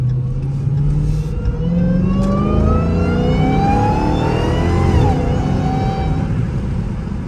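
A Dodge Hellcat accelerates through morning traffic, its engine revving loudly with rising pitch through the gears, heard close and continuous without talk.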